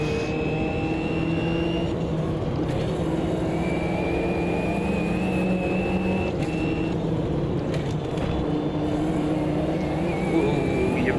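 Race car engine howling around the bumpy Nordschleife in Automobilista 2, a loud sustained drone with pitch rising and falling through gear changes and throttle lifts, with a voice talking faintly underneath.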